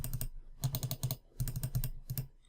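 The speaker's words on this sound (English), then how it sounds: "I'll just let you hear what the mouse clicks sound like." An Anker optical mouse gives off quick clusters of sharp, light clicks in close succession, grouped into short runs with small gaps between, quiet and close.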